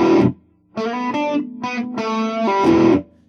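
An electric guitar with heavy distortion plays a short riff of chunky chords with gaps and slides, loud and close, with no talking over it.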